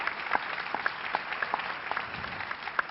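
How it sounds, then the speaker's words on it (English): An audience applauds a panel at the close of a plenary session of a 2013 business forum in Kuala Lumpur, a steady patter of many clapping hands at moderate distance. "Ladies and gentlemen, a round of applause for the panel."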